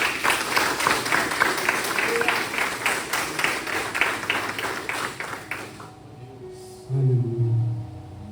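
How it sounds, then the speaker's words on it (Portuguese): A congregation claps warmly during a Sunday service at a Baptist church, the applause lasting about six seconds before it dies away and a voice speaks briefly. "Você pode dar um forte aplauso ao Senhor."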